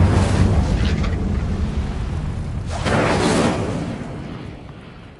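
A fire spell cast in the video game Hogwarts Legacy: a loud, sustained roaring blast that swells again near the middle and then slowly fades, with no talking.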